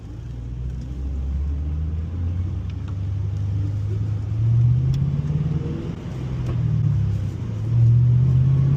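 A manual Ford Mustang GT engine rumbles steadily while driving on a country road, with low revving swells rising and falling as it accelerates, close and continuous with no talking.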